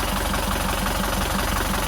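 Boat engine running steadily after a new seawater pump was fitted, a loud, continuous idling rumble with a regular low knocking pulse, close and unbroken, with no voices over it.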